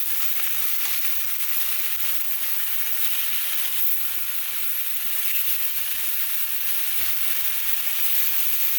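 Food frying in a pan on a home stove, a steady, loud, bright sizzle that runs unbroken throughout, close up, with no voices.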